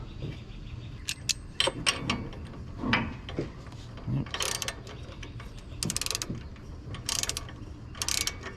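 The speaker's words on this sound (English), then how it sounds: "This is where the snap-on wrench really excels." Snap-on ratchet wrench working a spark plug socket on a John Deere X570 garden tractor: close, rapid bursts of pawl clicking alternate with scrapes and metallic handling noises, and a voice talks briefly in between.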